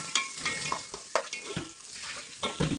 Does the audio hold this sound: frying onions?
yes